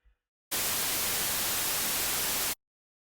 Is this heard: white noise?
yes